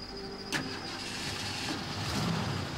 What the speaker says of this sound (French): La voiture de la victime démarra sans problème.